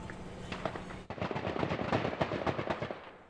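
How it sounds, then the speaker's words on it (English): A police barrage of gunfire at the end of an armed standoff: rapid, irregular cracks in dense succession, sharp and fairly close, with no talking. "About an hour before the barrage of gunfire that left one suspect dead"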